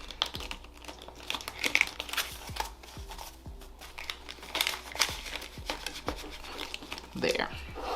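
Cash bills and a paper budget envelope are handled up close, with crinkling, rustling and soft taps in irregular bursts while someone talks over them.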